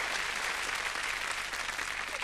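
A television chat show studio audience applauds in a dense, even roar of clapping that stays steady and fairly full for a couple of seconds, with no voices on top.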